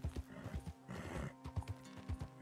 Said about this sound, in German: lassen wir mal das Pferd ein bisschen ruhen hier